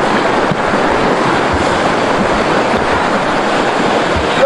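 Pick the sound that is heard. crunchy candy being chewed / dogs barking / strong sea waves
strong sea waves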